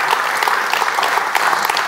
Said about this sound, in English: A big round of applause for our wonderful sponsors, please.